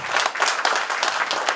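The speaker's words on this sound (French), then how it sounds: "J'aimerais que tous ici, on applaudit pour M. Tidjian Thiam" Crowd at a PDCI-RDA political party office inauguration applauding, a brief burst of loud, close clapping with uneven surges that cuts off abruptly.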